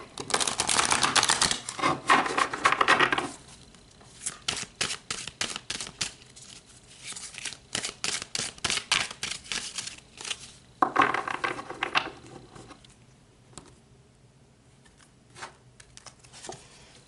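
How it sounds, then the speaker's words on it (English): Tarot cards are shuffled and pulled in bursts of crisp riffling and slapping close by, with quieter gaps of soft handling between the busier stretches. "So let's pull some more cards and go deeper into this energy"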